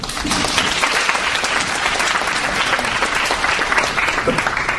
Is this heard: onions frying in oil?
no